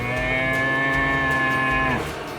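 A single bovine lows in a long, steady moo that holds strongly for about two seconds before tailing off, close and clear with no talk over it.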